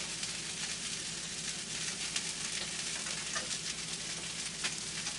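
Shrimp fried rice sizzles steadily in a hot pan while being stirred, a dense crackling hiss with faint scrapes of the utensil and no voices.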